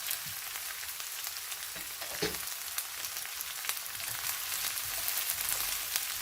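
Chopped onion, green chili and capsicum fry steadily in hot oil in a pan, a soft continuous sizzle with occasional scraping stirs, close and fairly quiet with no talking.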